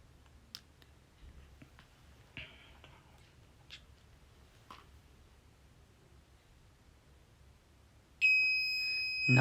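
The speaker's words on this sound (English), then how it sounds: "the alarm and the buzzer is making a sound" After quiet clicks and faint rustling, a rain-detection alarm buzzer suddenly sounds as water is added to its sensor, a steady loud high-pitched tone that continues to the end.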